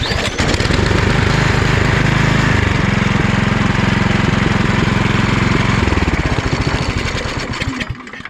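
A PowerSmart gas snowblower with a Briggs & Stratton engine in the 212cc–250cc class starts up and runs, holding a loud, steady engine roar close by with no talk, then fades slightly at the end.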